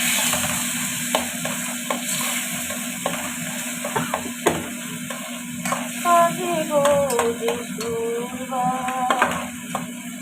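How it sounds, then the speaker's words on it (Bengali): Boiled tomato stirred into a hot pan of lentil-based cooking, with a steady soft sizzle, scraping spoon strokes against the pan and occasional clinks, close by with a constant background hum. "আচ্ছা, এবার আমি টমেটোটা দিয়ে দিচ্ছি। টমেটো ডালের সাথে সিদ্ধ করা ছিল, দিয়ে দিলাম।"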